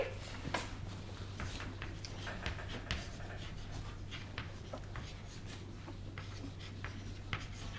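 A teacher writes on a board in a Bengali grammar class, making soft, quick scratching strokes in an irregular rhythm over a faint steady hum in a quiet room.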